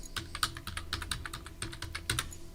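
Someone types a password on a computer keyboard, producing a quick, quiet, close run of light key clicks in an uneven rhythm.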